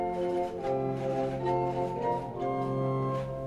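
Flute stop of the historic Hinsz pipe organ in the Bovenkerk church in Kampen, Netherlands, sustaining soft, full chords with gentle church reverberation and no talking.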